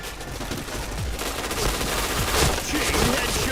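Rapid gunfire in a shooter video game, a dense run of overlapping shots at steady volume throughout, with faint game sounds underneath.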